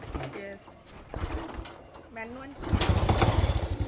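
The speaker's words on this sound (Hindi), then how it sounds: "चलो भाई चलाते हैं इस रेक्सा स्कूटर को" A kick-started Rexa geared scooter engine, built like an auto-rickshaw, runs with a steady low chugging that grows louder and rougher toward the end, under someone talking early on.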